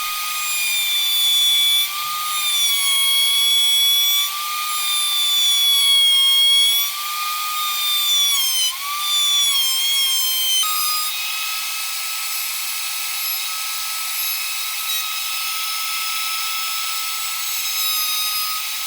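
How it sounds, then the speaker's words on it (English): A router fitted with a dull bit cutting the edge of a form block for Zenith 701 airplane ribs, giving a loud, steady high-pitched whine that wavers in pitch and eases to a lighter, even drone partway through. "and now we're ready to route the bottom edge of this."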